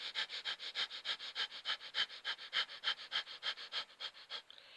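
Rapid short pranayama breaths pushed through the chest, about twenty quick rhythmic sniffing inhalations in an even, steady series, close and fairly quiet.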